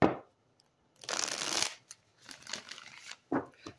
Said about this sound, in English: Let me do three more shuffles.